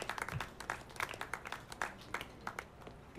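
A crowd applauding in the video game RoboCop: Rogue City, with scattered, uneven claps at a fairly low level, continuing throughout.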